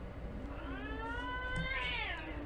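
A cat meows in one long, drawn-out rising and falling call close by, with a faint low background hum and no speech.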